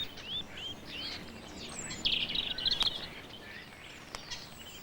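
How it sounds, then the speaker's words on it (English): A jay at a wire-caged fat feeder in a British garden gives a burst of harsh calls among other small birds chirping, moderately near against a steady outdoor hiss. "Including this jay"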